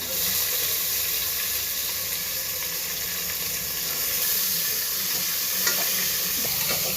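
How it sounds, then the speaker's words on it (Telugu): Onions frying in hot oil mixed with ghee for biryani: a steady, dense sizzle that holds at an even level, with occasional stirring scrapes and no talk. "నూనె కాగిన తర్వాత ఈ ఐటమ్స్ అంతా వేస్తాను. ఎర్రగడ్డ నేను వేసుకుంటాను."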